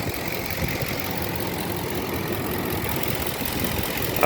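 A 2008 Nissan Titan engine idles steadily and close by, with a continuous low rumble and a faint rapid ticking from a leaking exhaust manifold running through it.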